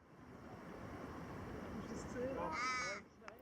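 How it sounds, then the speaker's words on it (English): Crows caw above Port Stephens near Sydney, a few rising calls near the end, moderately close, over steady wind and distant surf; a voice speaks briefly. "Crows are fascinating,"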